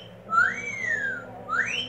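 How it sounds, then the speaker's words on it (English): A two-note wolf whistle, a rising swoop then a falling glide, followed by a second rising whistle, loud and close over faint background hum. "it's a big wolf whistle."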